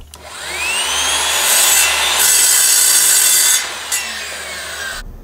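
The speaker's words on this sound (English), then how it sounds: "Before I cut the 3-inch strips with my miter saw" A power miter saw spins up and bites through wood, cutting 3-inch strips, a loud whining rasp sustained for a few seconds before winding down.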